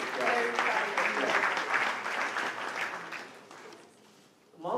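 Steady applause from a crowd, dense clapping that gradually thins and fades, with a brief burst of sound at the very end.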